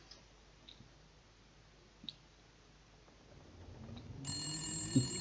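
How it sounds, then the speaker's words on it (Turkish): A telephone rings in The Long Dark survival video game, faint clicks first, then a quiet electronic ring rising near the end over a low background hum. "telefon çalıyor"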